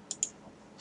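Two quick, faint clicks of a computer mouse in quiet surroundings, a short pause between them.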